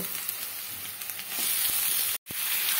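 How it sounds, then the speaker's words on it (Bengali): Chicken pieces frying with onions in a pan over medium to high flame give a steady, loud, close sizzle that hisses on without pause, apart from one brief dropout near the end. "এবারে মিডিয়াম টু হাই ফ্লেমে রেখে পেঁয়াজের সঙ্গে চিকেনটাকে আমি ভাজতে দেবো।"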